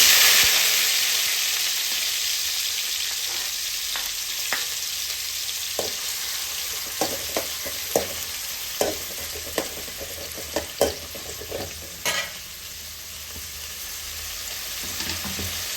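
Tomatoes frying with mustard seeds in hot oil for a radish kara kuzhambu, a steady bright sizzle with scattered sharp pops and stirring clicks, close and moderately loud.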